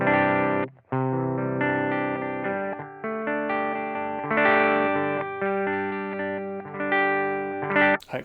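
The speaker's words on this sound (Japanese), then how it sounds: "はい、これでもちょっと歪みますね。" An electric guitar played through a BOSS FDR-1 Deluxe Reverb pedal with slight distortion sounds sustained chords with a thick, soft overdrive and a reverb tail, and it pauses briefly between strums.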